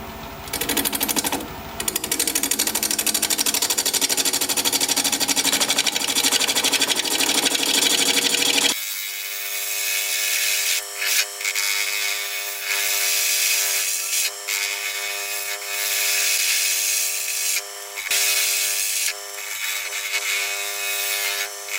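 A wood lathe spins a vase blank at about 750 RPM with a 6-inch tool rest, giving a loud, steady whine with harmonic hum and scraping chatter as the tool chips away at the top, shifting abruptly partway through.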